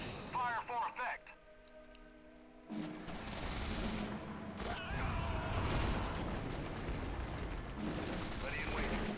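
An artillery barrage in the 2004 video game Axis & Allies, set at Iwo Jima, sends heavy blasts and rumbling explosions thudding through the scene, with a short radio-style voice burst and a silent gap before the continuous booming resumes.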